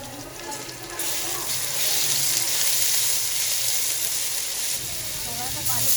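Ginger garlic paste hits hot oil in a cooking pot for Kashmiri daal chawal, giving a steady, close, hissing sizzle that holds for several seconds while someone talks quietly beneath it.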